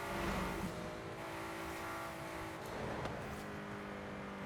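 A Ford GT in Forza Horizon 5 drives steadily with a continuous, moderately loud engine drone, brief revving swells and a hint of tire noise over about four seconds.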